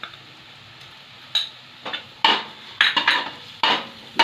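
A spoon clinks and scrapes against a pan while egg curry with chili powder, salt and sugar is stirred, about six sharp metallic knocks spaced irregularly over a faint quiet background.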